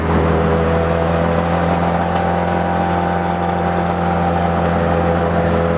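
A loud engine drones steadily with a deep constant hum and whir, no voices, filling the space throughout.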